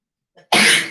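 A single loud, close sneeze from an adult during a live exercise class, with a short faint intake of breath just before the sharp, breathy burst.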